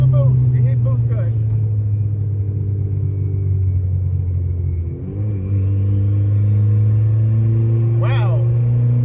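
A turbocharged Honda Civic engine drones loudly at low pitch, briefly dips and stutters as it hits boost cut at 20 psi, then resumes its heavy rumble, with a turbo whistle rising above it.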